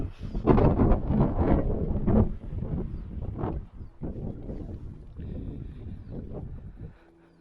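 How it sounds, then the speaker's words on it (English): Wind gusts across the microphone in a cemetery in Beaumont/Banning, California, loud rumbling buffets that swell and ease in uneven bursts before dropping away at the end. "the wind is picking up."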